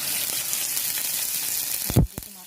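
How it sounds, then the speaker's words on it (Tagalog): Pork steak frying in hot oil for Filipino bistek tagalog, a loud continuous sizzle close up that cuts off sharply near the end, followed by a few brief clatters. "Ipiprito ko muna yung aking pork steak."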